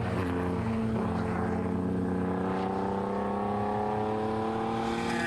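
BMW race cars, including a BMW 535, drone out of pit lane at Taupo in a steady engine roar whose pitch slowly rises as they pull away. No one speaks.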